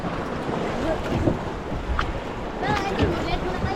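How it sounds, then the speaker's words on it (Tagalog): Strong ocean waves churn around a small fishing boat at sea, a loud rushing wash mixed with wind buffeting the microphone, while someone talks over it. "Lakas ng alon."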